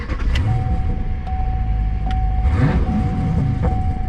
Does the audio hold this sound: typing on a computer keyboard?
no